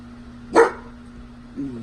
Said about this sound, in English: that's my dog Heidi.